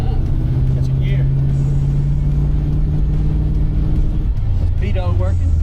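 A 1967 Chevy Camaro RS hot rod rumbles loudly from inside the cabin with a steady low engine drone, the pitch dropping near the end as it shifts gear; voices talk over it.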